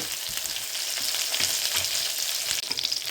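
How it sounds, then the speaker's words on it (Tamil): Brinjal and drumstick pieces sauté in a pan for a dried-fish curry, giving a steady, close sizzle with soft stirring scrapes throughout and no talking. "இப்போ இந்த கத்திரிக்காய் முருங்கைக்காயும் நல்லா வதங்கட்டும்."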